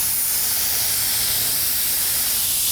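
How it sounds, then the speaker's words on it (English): A paint spray gun sprays paint onto detailed wicker, giving a loud, steady hiss that continues without a break. "be sure that you move your spray gun back and forth in a continuous motion"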